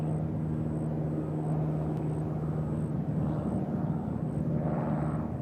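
A departing aircraft bound for Gallatin climbs away from Nashville International Airport, a steady low engine drone holding at moderate distance, with a faint high periodic beeping overhead.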